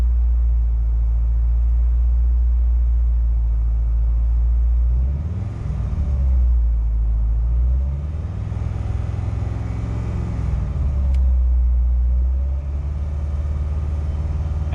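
A 1995 Acura Integra GSR's engine idles with a steady low rumble, then swells briefly a couple of times as the clutch is let out and begins to grab, heard close and without talk.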